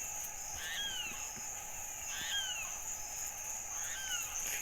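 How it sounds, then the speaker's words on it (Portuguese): Frogs croaking at night during a Saint Anthony bonfire gathering, several short rising calls repeating a few times at a distance. A steady high insect trill and a low rumble of background noise run beneath them. "o barulho do sapo cantando"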